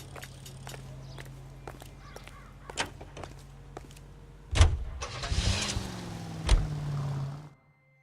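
Inside the video game L.A. Noire, light clicks and steps give way to a car engine starting, which rises into a moderately loud running hum before cutting off, with a bird cawing faintly in the background.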